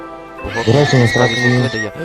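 A Minecraft horse gives a loud, close whinny: a shrill rising neigh that breaks into a rapid, stuttering series of tonal pulses lasting about a second and a half.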